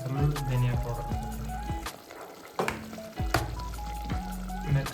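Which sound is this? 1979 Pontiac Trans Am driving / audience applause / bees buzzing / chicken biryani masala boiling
chicken biryani masala boiling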